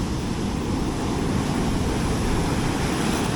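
Atlantic Ocean surf breaks along the beach at Soorts-Hossegor in a dense, continuous roar of waves and wash, loud and close with no voices over it.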